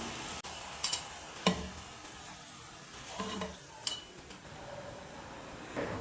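Raw banana bonda fries in oil with a faint, steady sizzle, broken by a few light clinks of a utensil against the pan, quiet and without talk.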